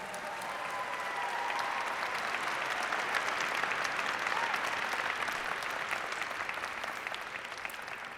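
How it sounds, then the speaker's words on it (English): Sustained audience applause at a Dr. Martin Luther King Jr. celebration, a broad, even wash of many hands clapping throughout, slightly swelling in the middle and easing toward the end. "Can we give her another round of applause?"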